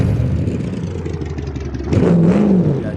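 A car engine sputters and runs rough, then catches and revs up louder near the end, with a rising engine tone.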